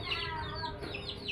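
Free-range Indonesian village chickens cluck in a short burst of overlapping calls, close and moderately loud against a steady farmyard background.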